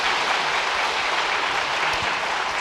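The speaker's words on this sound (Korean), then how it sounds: "수여할 때 큰 박수로 축하해 주시기 바랍니다" Sustained, even applause from a church congregation celebrating children receiving awards during a Sunday worship service, a dense wash of clapping that fills the whole stretch without letup.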